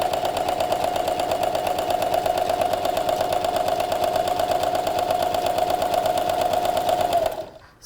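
A sewing machine runs in one steady, continuous stitching burst along a pocket divider line, loud and close with an even rapid hum, stopping abruptly near the end.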